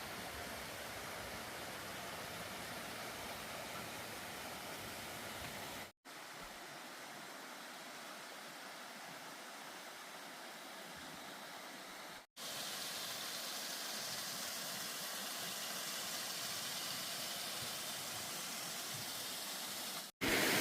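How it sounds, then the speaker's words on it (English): Rainwater pours down a wet, rocky stretch of the Appalachian Trail like a small river. A steady hissing rush continues without a break, interrupted only by a few brief sharp dropouts. "the trail is turned into a river"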